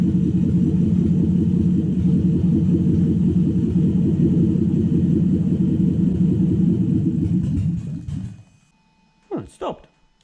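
A Toyota 1UZ V8 fitted in a Mazda FC RX7 fires for the first time and settles into a loud, steady, lumpy idle. After about eight seconds it dies away, and a few brief voices follow once it falls quiet.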